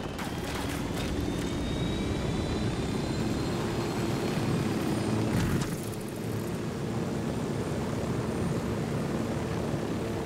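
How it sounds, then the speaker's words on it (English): A helicopter flies in Ghost Recon Wildlands, giving off a loud, steady engine and rotor roar that runs throughout, with a brief swell near the middle. "I'm gonna use the helicopter because I feel like that'll be a lot safer."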